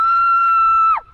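A single long sustained shout on a mountain top, one loud clear held tone that drops off abruptly at the end, with faint background noise after.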